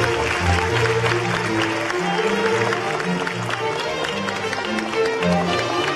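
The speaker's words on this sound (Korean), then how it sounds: "여러분, 큰 박수 함성 부탁드립니다." Audience cheering and clapping for an MC being introduced at a 2012 presidential campaign lecture event at Chosun University, a dense, steady crowd roar over music-like tones that holds for the whole stretch.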